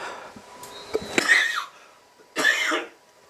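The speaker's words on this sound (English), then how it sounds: "Didn't want to cough in your ear." Two sharp, close coughs, the first a rough cluster and the second a single burst after a short pause.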